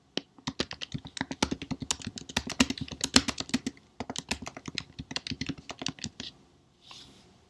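Fast typing on a computer keyboard, with dense clicking keystrokes in bursts, a brief pause near the middle, and the keys falling silent just before the end; no voices are heard.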